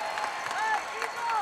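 Crowd applause and cheering fill a packed high school basketball gym after a made three-pointer, with a steady, moderately loud roar and a commentator's voice talking over it.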